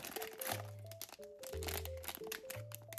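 Crinkly plastic packet being torn open during an unboxing, close crackling and crumpling in bursts across the clip, with bits of sustained tonal sound in between and no talk.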